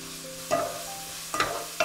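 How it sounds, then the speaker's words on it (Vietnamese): Garlic and lemongrass hit hot oil in a pan, bursts of stirring and sizzling frying that swell in a few loud surges over a steady crackle, with no voices. "Và mình cho tỏi vào trước nè. Rồi đến sả. Mình phi lên cho hơi vàng thơm ha các bạn."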